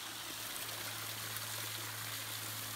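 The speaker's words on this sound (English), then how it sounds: "There's a little waterfall over here." Small waterfall in a creek in the Lassen area, a steady close rushing of falling water heard alone with no voices.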